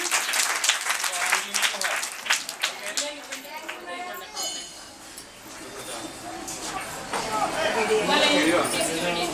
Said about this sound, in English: Okay, clap to her. Clap to her,